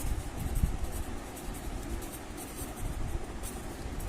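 A pen scratches steadily across paper in a quiet room, soft continuous handwriting strokes heard close and faint.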